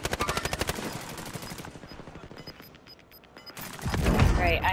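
Bursts of rapid automatic gunfire in Call of Duty: Modern Warfare, loud and rhythmic at first, then thinner scattered shots with faint beeps, and a heavy thudding close to the end.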